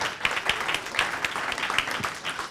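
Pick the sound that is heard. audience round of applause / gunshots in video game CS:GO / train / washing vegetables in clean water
audience round of applause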